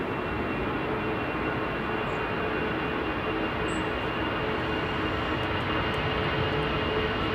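A Lufthansa airliner rolls down the runway for takeoff at Manchester Airport, bound for Frankfurt, giving a steady, broad engine roar that holds even throughout, moderately distant with no voices.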